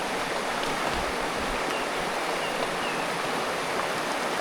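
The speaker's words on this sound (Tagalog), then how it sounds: "Malalim yung ilog ay." A deep river rushes steadily in broadband noise where horses are being led across, loud and close throughout with no voices.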